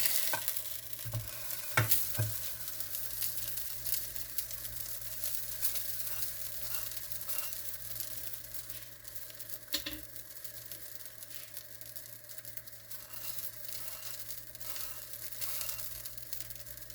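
Steady sizzling of pizza hotteok frying in a pan, a continuous crackle with a few soft clicks and scrapes, no talking.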